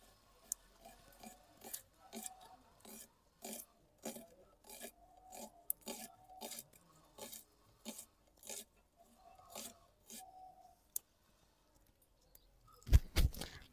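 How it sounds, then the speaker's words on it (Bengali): Fresh ginger root scraped and peeled by hand for a rustic village-style coriander chicken, a steady run of short rasping strokes in a regular rhythm, close and fairly quiet, ending in a few louder knocks. "এখানে রসুন ছাড়িয়েছি আর আদাটা ছাড়িয়ে নিচ্ছি।"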